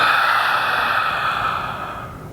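One long, deep breath drawn and let out during a morning stretching routine, close and full, slowly fading toward the end, with no voice over it.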